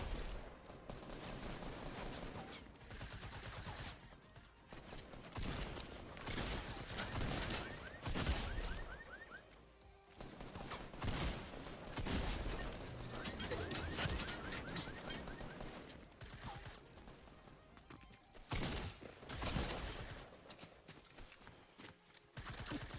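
Sustained video game shooter gunfire, repeated rapid shots and bursts over a long stretch, loud and close with brief lulls between volleys.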